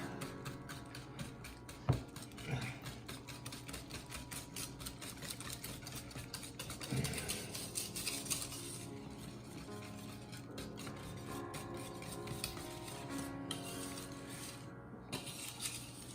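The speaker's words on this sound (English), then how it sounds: "to switch to a whisk. See if we can get a real good mix going here." A whisk beats a Caribbean Bakewell tart mixture in a bowl, a quick steady scraping and clinking rhythm that runs throughout, fairly faint, with occasional louder knocks against the bowl.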